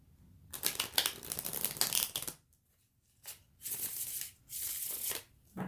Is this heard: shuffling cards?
yes